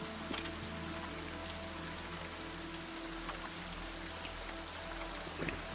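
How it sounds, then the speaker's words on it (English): Rain and bits of ice pattering on a metal shovel held overhead, a steady dense hiss of drops with scattered tinks, continuous and close. "As you hear lots of tink, tink, tink, tink, tink, tink on your shovel as not only the rain, but like things of ice come down"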